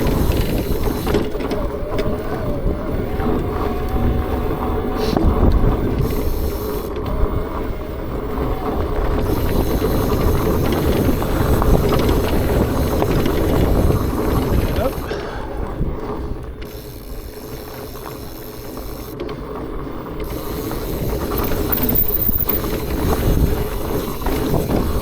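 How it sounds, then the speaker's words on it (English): Borealis Keystone electric fat bike with a mid-drive motor, heard while riding: a steady, fairly loud mechanical whir with ratcheting, gear-like texture running continuously throughout, with no talking. "As far as motor noise goes, it's a little bit of motor noise, pretty typical of a mid-drive"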